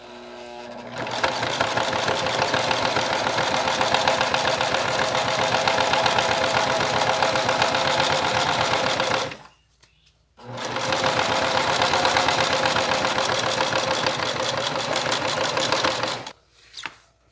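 Sewing machine stitching slowly along a seam on a double fabric pencil case, a steady continuous mechanical whir running for several seconds, stopping briefly, then resuming and stopping again.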